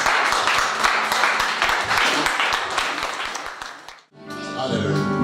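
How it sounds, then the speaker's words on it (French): A church congregation at a New Year's Eve worship service claps loudly and rapidly in a dense, sustained wave of applause. It fades briefly near the end before sustained musical tones rise. "Applaudissons plus fort."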